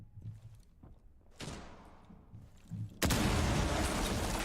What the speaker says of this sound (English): Explosion over the head of Paolo now as we hit the halfway mark.